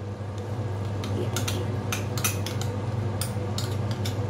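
A spoon scrapes and taps in a pan while whisked yogurt is stirred into spiced ghee masala for Rajasthani pitod ki sabzi. Repeated light metallic clicks sound close and even over a low steady hum.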